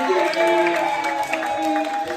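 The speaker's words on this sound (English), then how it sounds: "Another round of applause." Comedy club audience applauds and cheers after a clean stand-up comedian's set, a steady crowd roar with scattered whoops and a voice talking over it throughout.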